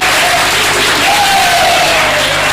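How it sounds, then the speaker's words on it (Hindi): An audience claps in welcome at a Jain foundation-stone ceremony, steady dense applause that runs loud and unbroken throughout. "एक बार ताली बजा करके स्वागत कर दें"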